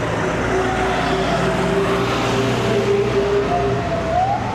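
A small ambulance siren wails through street traffic in Sri Lanka, a steady rising-and-falling tone heard over a loud, constant roar of passing vehicles, with no talking.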